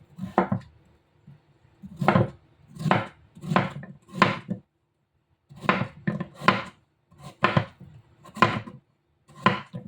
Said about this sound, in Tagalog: sayang yung sayote kaya binalatan ko at ihahalo ko dun sa dinengdeng guys sa mga Ilocano, inabraw. And yan, hiwain natin.